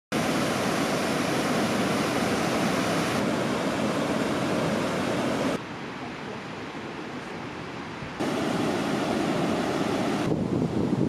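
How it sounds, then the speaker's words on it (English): Steady, dense rushing water roars without pause, like a waterfall heard up close in Rocky Mountain National Park, its level dropping briefly partway through before returning. "I did not know it had a waterfall."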